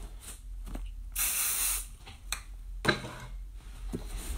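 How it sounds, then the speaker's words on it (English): An aerosol can sprays in short hissing bursts, one longer spray in the middle, with light clicks and taps between them. "So go ahead and lightly spray it."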